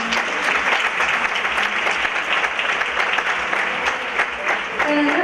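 Audience in a theatre applauds a contestant at the Miss Grand Huelva pageant final in La Palma del Condado, loud sustained clapping throughout with a voice faintly audible over it.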